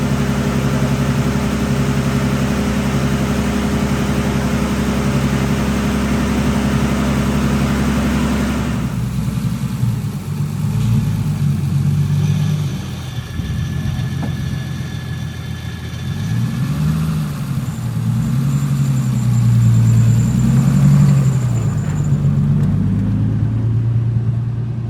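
A Honda S2000 running a Link ECU idles on a dyno, a loud steady mid-pitched engine note that changes character partway through and then rises and falls with light blips of the throttle.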